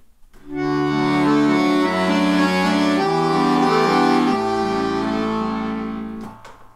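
An inexpensive chromatic button accordion sounds a sustained series of held chords that shift step by step, full and reedy, then stops with a couple of clicks.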